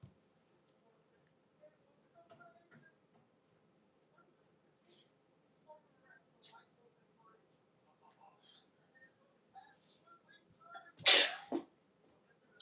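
A single sharp, loud sneeze bursts out near the end, standing out against a quiet room with faint scattered background noises.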